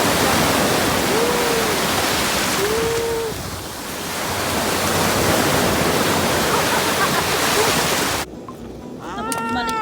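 Flowing water at a beach campsite at Lo Kei Wan in Hong Kong, a loud, continuous rushing wash that dips briefly and then swells again, with people talking near the end.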